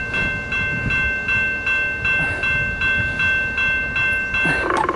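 A CSX mixed freight train rolls past westbound, its wheels clacking in a steady repeating rhythm close by, with a sustained horn-like tone running underneath and a brief metallic burst near the end.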